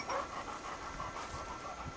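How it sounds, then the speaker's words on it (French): A dog pants steadily after drinking heavily from a cow watering hole, rapid soft breaths repeating close by over faint outdoor background. "Il boit beaucoup ce chien."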